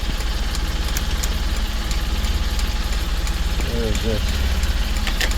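1998 Mitsubishi MiniCab 4x4 dump truck engine idling steadily, a close, continuous rumble, with someone briefly speaking over it.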